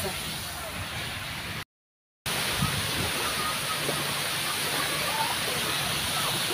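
Steady, dense rush of water flowing into a resort swimming pool fills the clip, broken by a brief moment of total silence early on.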